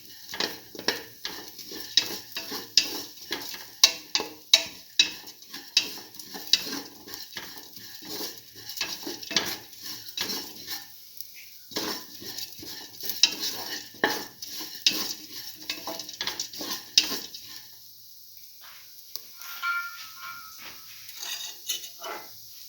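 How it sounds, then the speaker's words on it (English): Black lentil stew ingredients sautéed in a pot, with a spoon repeatedly scraping and clattering against the pot over a soft sizzle, the stirring strokes coming in quick irregular bursts that ease off near the end. "keep on sauteing."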